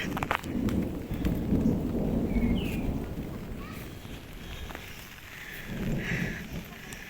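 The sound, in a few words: rain and thunder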